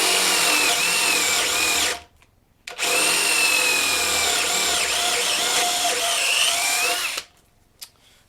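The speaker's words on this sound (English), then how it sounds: "I'm using a 9/16 drill bit because I want there to be a lot of extra wiggle room for these boards" A cordless power drill with a 9/16-inch bit bores through 2x4 boards for a butcher-block workbench. Two loud, steady high-pitched whirring runs are separated by a short pause, then the drill cuts out abruptly.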